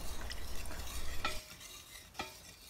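A spoon stirs an agar jelly mixture in a pot with soft scraping and swishing, plus a few sharper knocks against the side. The sound is close and continuous, with no talking.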